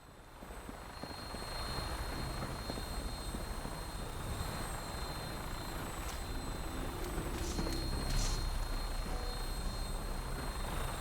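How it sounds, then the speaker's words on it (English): A Vertibird aircraft approaching in Fallout 4, a steady loud rotor and engine drone that grows slightly stronger toward the end. "we've got a vertibird incoming"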